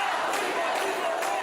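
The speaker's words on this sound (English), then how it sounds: "large crowds of protesters poured into City Hall, chanting, yelling, and wanting to be heard" Large crowd of protesters packed into City Hall, a dense continuous roar of many voices chanting and yelling at once, steady and loud with no single speaker standing out.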